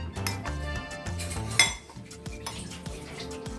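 Boiled potatoes mashed in a metal bowl for aloo paratha stuffing, with repeated dull clanks and scrapes of the masher against the bowl, close and moderately loud, and one sharper knock near the middle.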